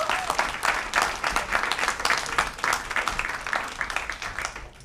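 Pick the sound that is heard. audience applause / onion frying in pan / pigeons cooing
audience applause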